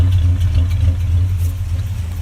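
A 1965 Chevy pickup, sitting for fifteen years, idles with dual exhaust, a loud, steady low rumble with a lumpy pulse, heard close up.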